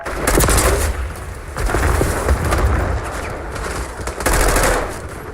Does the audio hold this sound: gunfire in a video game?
yes